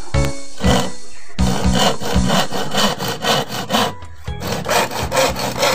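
A manual hand saw cuts through wood in loud, rhythmic back-and-forth rasping strokes, close by and alone, with a short pause between bursts.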